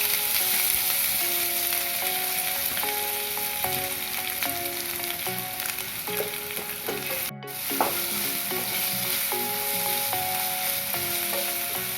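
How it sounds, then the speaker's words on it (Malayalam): Chopped ginger fries in hot coconut oil for Kerala puli inchi, a dense, even sizzle with occasional stirring scrapes, close and continuous under steady background music, with a brief dropout midway. "ഇതിലേക്ക് നമ്മൾ അരിഞ്ഞു വെച്ചിരിക്കുന്ന ഇഞ്ചി ഇട്ടൊന്ന് നല്ല ബ്രൗൺ കളർ ആവുന്ന വരെ ഒന്ന് വറുത്തെടുക്കാം"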